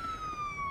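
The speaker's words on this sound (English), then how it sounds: "What is up with the sirens, my guy?" A police siren from the Police Simulator: Patrol Officer video game sounds in a brief, faint, steady electronic tone slowly falling in pitch.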